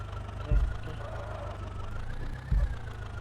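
An HMT tractor engine in an Indian vehicle simulator game drones steadily at low pitch under strain, with two heavier thumps standing out along the way.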